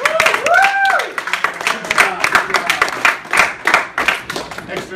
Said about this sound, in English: Extra applause for our brave volunteers.